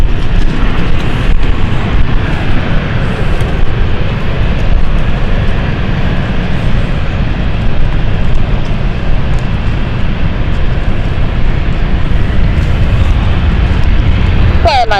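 A jet takes off from runway 27 at London City Airport, a loud, steady engine roar that fills the whole stretch, with a radio voice talking underneath.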